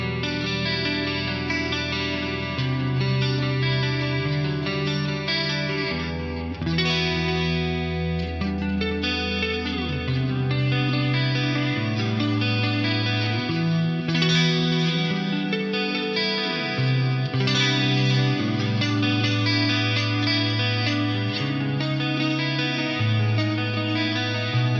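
A clean electric guitar plays through a Roland JC-120 amp on the neck pickup, sustained chords and melodic lines shimmering with chorus and trailing delay repeats, steady and fairly loud throughout.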